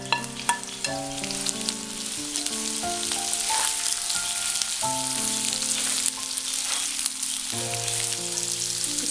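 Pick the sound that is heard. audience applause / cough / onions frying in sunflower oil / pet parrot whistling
onions frying in sunflower oil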